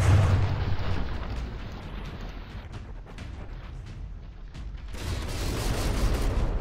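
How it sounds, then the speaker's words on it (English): Artillery shells bombard in a From the Depths naval battle between the St. Augustin and the Charon, a rolling series of loud booms and rumbling blasts with heavy onsets at the start and near the end. "another opponent is going to get just bombarded into oblivion by the St. Augustin"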